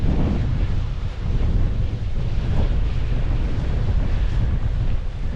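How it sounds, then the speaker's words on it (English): Strong southwesterly wind roars continuously across the microphone at Kinder Downfall waterfall on the Kinder Scout plateau, a loud, steady buffeting rush with no pauses. "the spray being flung back by the southwesterly wind that's coming today"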